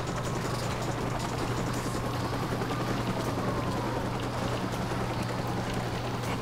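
Helicopter in the video game Watch Dogs, a steady low rotor drone with a constant hum running unbroken throughout, mixed with washing water-like noise, no talk.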